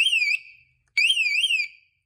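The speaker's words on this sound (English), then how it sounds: "Sets off the alarm." A toy gumball machine's shrill electronic alarm warble sounds twice, each burst rising and falling in pitch for about three-quarters of a second, with a short silence between.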